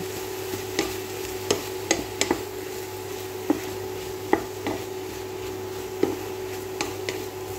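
Mushrooms frying golden brown in a pan, with a steady soft sizzle running throughout and scattered sharp clicks and scrapes from stirring. No one speaks.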